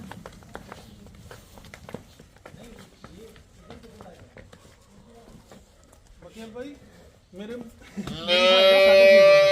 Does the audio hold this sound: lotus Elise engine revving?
no